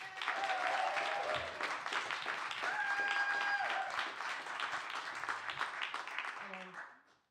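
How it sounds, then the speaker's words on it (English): Audience applause for the performer Chris at a song and poetry event, steady dense clapping with a few voices rising through it, fading away at the end. "So a massive round of applause for the person who I think has travelled the furthest to get here today, the wonderful Chris."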